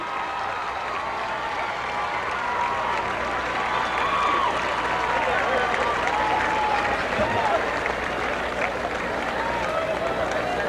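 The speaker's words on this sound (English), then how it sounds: "Give her a big round of applause." A large crowd at a high school all-star football game award presentation applauds steadily and loudly, the clapping sustained throughout with scattered cheers mixed in.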